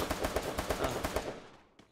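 Rapid automatic gunfire from the battle royale game Free Fire rattles in a quick burst of about ten shots, loud and close, then cuts off into a short fading tail.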